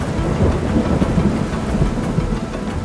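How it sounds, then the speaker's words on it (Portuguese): Heavy rain pours down in the Amazon rainforest, a dense, steady roar with low rumbling thunder rolling underneath, loud and continuous with no voices. "A grande quantidade de chuvas também é uma característica da Amazônia."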